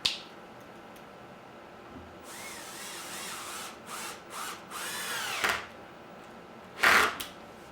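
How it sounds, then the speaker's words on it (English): Power drill driving a screw into a cedar potting bench board, a few short bursts of whining motor with rising and falling pitch, close and loud, separated by pauses. "I'm going to get this middle screw in next."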